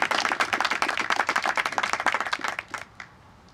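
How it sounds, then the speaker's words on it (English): An audience at an Army NCO induction ceremony claps for soldiers, a close, brisk burst of many hands that thins out and stops abruptly near the end, leaving quiet room tone. "Let's give them a round of applause if we can."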